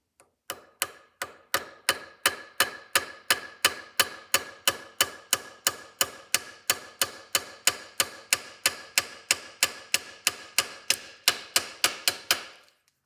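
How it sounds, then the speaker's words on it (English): Brass hammer tapping the carriage shaft of an Edison Gem phonograph, a steady run of about thirty sharp metallic taps at an even, quick rhythm, close and clear with no talking. "And then you're going to take a brass hammer"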